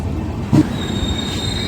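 A passenger train bound from Kanyakumari to Pune rolls past close by, a steady metallic rumble with a sharp wheel squeal and clank near the start, no voices.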